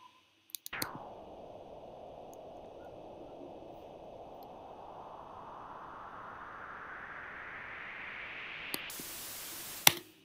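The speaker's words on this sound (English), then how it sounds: "white noise filter sweep." A synthesized white-noise riser with a filter sweep climbs smoothly from dull to bright over about eight seconds, ending in a short burst of full, hissing noise.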